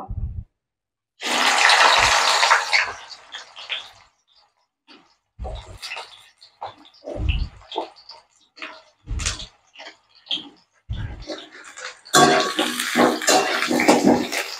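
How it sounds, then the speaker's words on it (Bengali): Bitter gourd (uchhe) slices hit hot oil in a pan, giving bursts of loud hissing sizzle separated by quiet gaps and the clatter of utensils. "এবার আমি উচ্ছেটা ভেজে নেব।"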